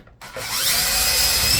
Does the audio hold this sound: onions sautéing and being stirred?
no